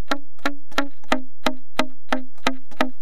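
Slap-tongue beatbox rendition of Chopsticks on an alto saxophone: nine sharp, evenly spaced percussive pops with a short pitched low tone after each, played alone at a steady rhythm.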